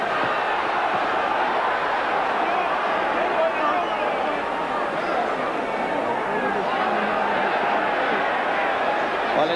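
A boxing crowd in an old hall roars steadily during a Frank Bruno bout against Stewart Lithgo, a dense, sustained wall of cheering and hubbub with a commentator talking over it.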